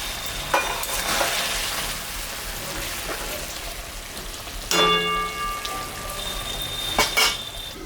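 A paste of tomato, green and red chilli, ginger and cumin fries in a pan, giving an even crackling sizzle with stirring noise, broken by two sharp metallic clinks of a utensil near the end.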